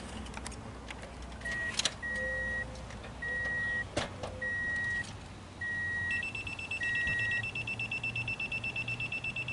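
A rear parking assist sensor on a 2004 Toyota Echo in reverse gives a steady series of short, evenly spaced electronic beeps, then switches to a faster, higher, more insistent beeping near the end.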